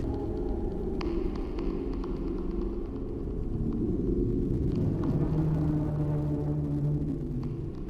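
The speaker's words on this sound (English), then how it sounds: "the eerie sound the ice machine truly was making" An ice machine drones with a low, steady moaning hum and rumble that stays even throughout, with a few faint clicks on top and no voices.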